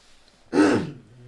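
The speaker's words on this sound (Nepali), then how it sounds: "मैले सबभन्दा सुरुमा चाहिँ घाँटी सफा गरेँ।" A single short throat clearing from a man during an interview, close and distinct against a quiet room.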